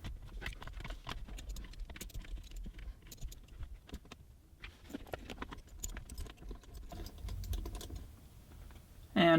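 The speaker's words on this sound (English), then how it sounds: "we'll use our Torx tool here to screw all 4 of these little Torx screws back into" Torx screwdriver driving four small Torx screws back into a BMW factory auxiliary audio unit in an E39/E46/E53 dashboard, a string of faint close clicks and ratcheting taps at an uneven pace, no speech.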